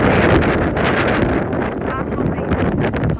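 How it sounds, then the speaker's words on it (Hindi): Strong wind buffets the microphone on a hilltop near a jungle, a loud continuous rumbling roar with gusts throughout, while people talk faintly underneath. "बहुत तेज हवा है यहाँ पे ना"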